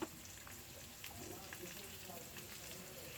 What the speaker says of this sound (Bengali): এখানে করলা ভাজির জন্য পরিমাণ মতো তেল দিয়েছি